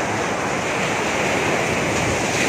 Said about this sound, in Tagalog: Tapos mayroon pang paalon-alon dyan sa likuran.